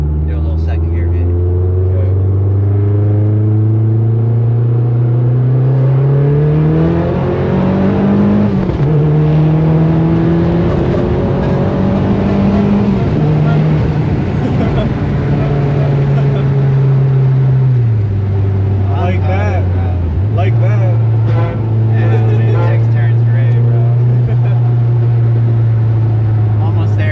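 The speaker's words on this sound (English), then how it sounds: "Do a little second gear hit." A front-wheel-drive 2013 Mazdaspeed 3 hatchback accelerates hard in second gear, its engine note climbing steadily and then holding a loud, droning pitch with brief dips, heard close and continuous.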